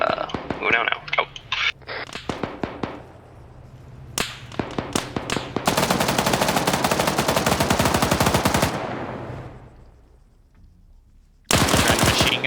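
Machine gun fire in a video game comes as short bursts, then a long, rapid, sustained stream of shots, a pause, and another close, loud burst at the end.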